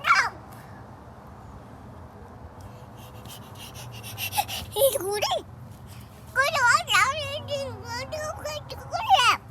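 A bird caws a few times, loud and close, while a baby babbles and squeals and an adult speaks softly in between.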